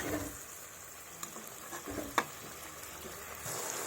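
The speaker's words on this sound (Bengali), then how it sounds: "এবার ভালোভাবে মশলাটাকে কষিয়ে নেব যতক্ষণ না তেল ছাড়ে।" Spice paste for a katla fish kalia frying in oil and being stirred, a steady sizzle with occasional spoon scrapes and knocks against the pan, close, with no talking.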